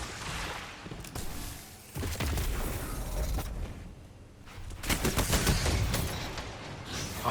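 Bursts of rapid gunfire from a weapon in the video game Destiny Trials, dense crackling volleys with brief pauses between them, loud and upfront.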